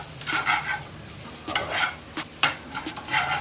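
Onion and masala mixed in an oil-sprayed pan for an omelette, with rhythmic scraping stirs over a soft steady sizzle, close and fairly quiet.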